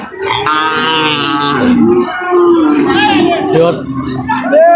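Cattle moo and low over a busy crowd background at a cattle market. Voices talk nearby.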